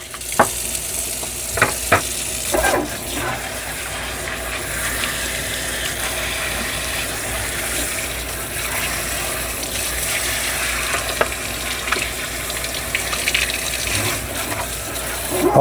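Scrubbing Bubbles cleaner sprayed onto dirty Dyson Spot+Scrub parts, a steady close hiss and fizz with scattered clicks and taps running throughout and no voices.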